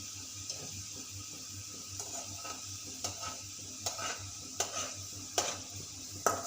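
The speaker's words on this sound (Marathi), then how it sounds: "आपले छान असे मोदक गोल्डन होतपर्यंत आपण छान तळून" Modak dumplings frying in hot oil until golden, a soft steady sizzle near at hand, punctuated by regular light clinks of a utensil against the pan.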